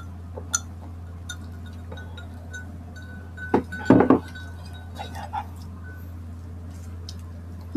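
Glasses clink together in a toast at a casual Filipino carinderia meal of beef caldereta, a quick cluster of bright chinks standing out clearly above a quiet room murmur, with no talk over it.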